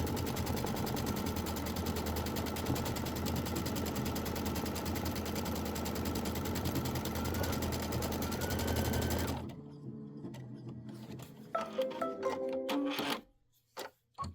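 An embroidery machine stitches a fabric tack-down with a fast, steady mechanical whir and rapid needle rhythm for about nine seconds, then stops, followed by faint handling clicks and rustles.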